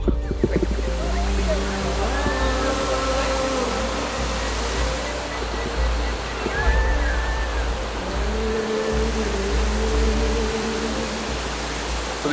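Jungle waterfall on Siquijor Island, a steady broadband rush of falling water filling the scene, continuous and fairly close, with faint birdcalls and occasional low bumps over it.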